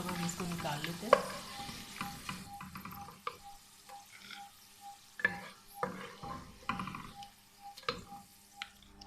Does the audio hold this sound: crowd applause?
no